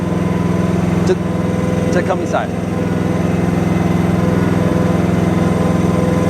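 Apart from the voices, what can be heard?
Briggs & Stratton engine idling on HUAYEE HY14C mini excavator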